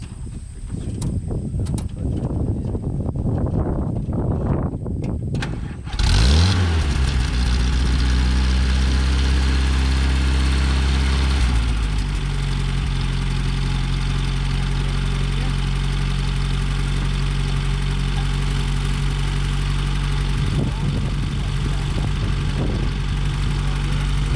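A WWII military vehicle engine turns over and settles into a steady, loud, low idle with a slight throttle rise, heard close after a few seconds of background noise.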